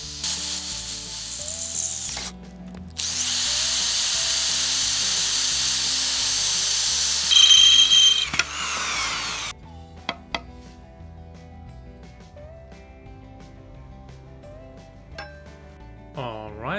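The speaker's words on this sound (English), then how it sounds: "I actually wanted to drill between those wooden planks" A power drill bores between wooden planks in a home workshop while a carbon steel knife is made: a loud, steady high whine for several seconds, then fainter clicks and mechanical tapping.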